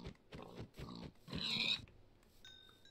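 A Minecraft pig grunts and oinks in three or four short, close bursts, followed by a higher squeal and then a quieter stretch with a faint tone.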